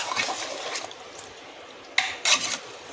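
Taro and mutton being stirred in a cooking pot, soft wet scraping and sloshing with a couple of sharper rasping strokes near the end, close by and without talk.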